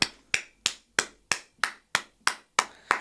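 One person claps their hands in a slow, even rhythm to imitate the slap of bodies, giving about ten sharp, isolated claps close to the mic, each quickly decaying into silence.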